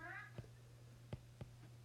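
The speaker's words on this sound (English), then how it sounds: "I've got a cat who has joined me." A house cat gives one short, soft meow at the start over a steady low hum, followed by a few faint clicks and taps.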